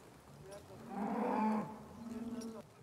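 Cattle low in a herd, one loud drawn-out moo building and fading in the middle with softer bellows after it, heard at a cowboy-style ranch during working-cattle training.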